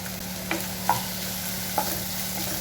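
Chopped onion fries in a pan with ginger and garlic. A low, even sizzle runs throughout, with a few light scrapes and taps of a stirring spoon and no voices.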